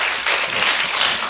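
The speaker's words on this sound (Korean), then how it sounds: "자, 박수 한번 합시다" Congregation at a church service applauding together, a steady broadband patter of many hands close by, holding evenly for the whole moment.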